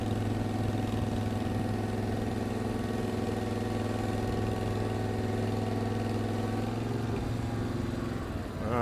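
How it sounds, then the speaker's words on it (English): Equipter 7000 engine running steadily while its hydraulic boom retracts, a constant mid-pitched engine drone with a hydraulic hum layered in, near and even until a slight dip at the very end. "I'm going to retract the boom in, get it on top of the unit a little bit more"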